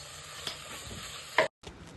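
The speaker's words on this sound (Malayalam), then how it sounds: "1/2 ടീസ്പൂൺ ചിക്കൻ മസാല ചേർത്ത് പച്ചമണം പോകുന്നവരെ നന്നായി വഴറ്റിയെടുത്തു" Spices and chicken masala sautéing in oil for a Kerala chicken curry, a soft continuous sizzle with a spoon stirring and scraping the pan, and a brief clatter just before a short gap.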